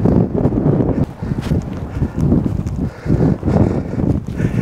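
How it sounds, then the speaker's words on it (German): Wind sweeps across an open battlefield in Denmark. It buffets the microphone close up in repeated gusty bursts that rise and drop over a few seconds. "Bisschen windig hier."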